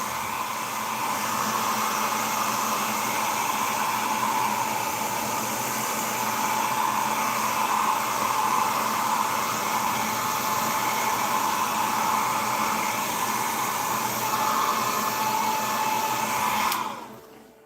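A hair dryer blows continuously close by, drying a fresh coat on a cedar Sportspal canoe; a steady loud whooshing roar runs alone until it cuts off at the very end.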